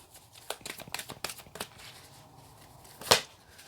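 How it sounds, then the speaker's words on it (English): A tarot card deck is shuffled, giving a series of soft riffling and flicking bursts at close range, ending in one sharper snap of cards, with no talk. "Just give that one more shuffle."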